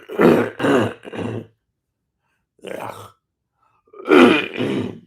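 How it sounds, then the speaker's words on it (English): A person clears their throat several times in short, gravelly bursts, pausing before a final louder pair of rasping clears, close to the microphone. "I came on live just so I clear my throat"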